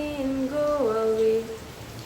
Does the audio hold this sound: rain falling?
yes